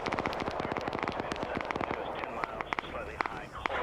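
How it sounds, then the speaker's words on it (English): Rapid bursts from a ZSU anti-aircraft gun in a military video game operation, firing from afar in quick cracking volleys over a steady backdrop of battlefield noise. "We hear that ZSU firing in the distance"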